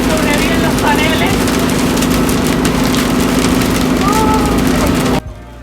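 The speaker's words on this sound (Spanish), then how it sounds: "Saliendo de Pehuenco nos agarró lluvia y después granizo." Hail drums on a vehicle on a coastal highway in Argentina, a dense rattle of hard impacts on the roof and panels over a constant engine hum, cutting off abruptly near the end; voices speak faintly within it.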